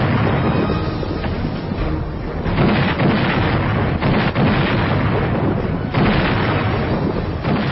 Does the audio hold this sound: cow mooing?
no